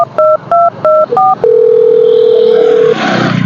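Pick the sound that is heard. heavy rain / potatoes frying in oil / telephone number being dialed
telephone number being dialed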